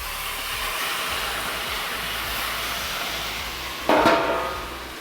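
Steam hissing as a dozen oysters cook on a Pit Boss Sierra flat top griddle: a steady broadband sizzle throughout, swelling into a louder burst of steam near the end that slowly fades.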